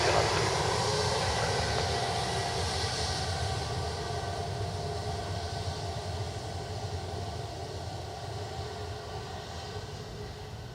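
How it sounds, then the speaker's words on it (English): Air Transat Airbus A321neo airliner at Dublin Airport, a continuous broad engine roar with a steady hum, loud at the start and slowly fading away. "So Air Transat 321 Neo as well."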